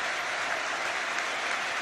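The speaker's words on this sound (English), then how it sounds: "Warm applause for the Spaniard." Warm crowd applause at a Hearts v Aberdeen football match for the Spanish goal scorer, a steady dense wash of clapping heard alone for a couple of seconds at moderate distance.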